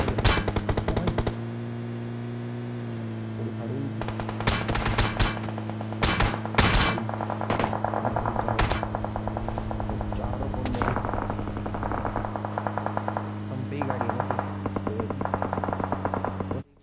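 Gunfire in PUBG rattles in rapid automatic bursts over a steady mechanical hum, shots clustering in loud volleys with short pauses between them.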